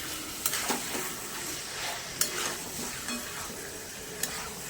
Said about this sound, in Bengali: চিকেনটা ভালো করে কষে নেব।